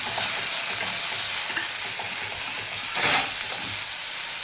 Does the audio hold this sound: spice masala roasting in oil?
yes